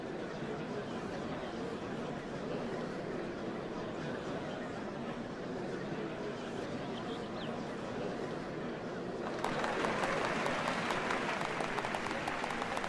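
Crowd cheering and applauding in Final Fantasy XIV Dawntrail at the changing of Dawn Servants, a faint steady murmur of many voices that swells into brighter, denser clapping near the end.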